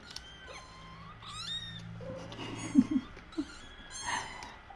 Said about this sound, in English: Noisy kittens. You made noisy kittens.